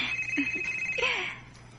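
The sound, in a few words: telephone ringing with an incoming call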